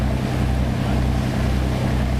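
A harbor cruise boat on the river at Southampton hums with a steady low engine drone, joined by water wash and light wind rumble, continuous and fairly close with no talking.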